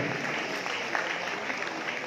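An audience at a press meet in Malaysia applauds steadily, a dense, continuous wash of clapping filling the room at even loudness throughout.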